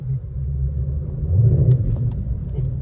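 A Shelby GT500 rumbling along a road while driving, its engine note a steady, close, deep drone that swells louder midway through.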